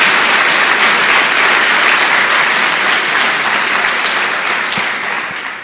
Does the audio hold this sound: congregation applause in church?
yes